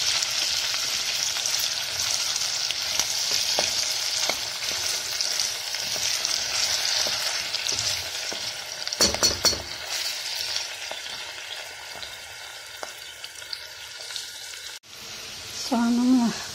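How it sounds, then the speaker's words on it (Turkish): Onions sauté in oil, giving a strong, steady hiss and sizzle with a few clanks of a utensil on the pan, and a short voice is heard near the end. "Soğanımı kavurmam"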